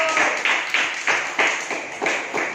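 Classroom applause for a student discussion group, a few people clapping in a rhythmic, even beat of roughly regular claps, close and alone.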